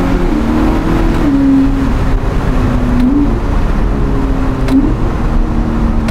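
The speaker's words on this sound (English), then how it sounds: "But full Novitec exhaust system." Novitec Ferrari SF90 Spider with twin-turbo V8 and full Novitec sport exhaust, loud close-up revving in repeated rising and falling pulls with a deep droning tone and some wind noise.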